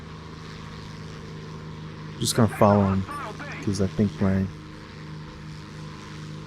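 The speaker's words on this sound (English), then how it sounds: "As you can see, we're getting shot now by a jet." A steady propeller-like aircraft engine drone runs throughout a War Thunder battle with an attacking jet nearby, while someone talks briefly over it.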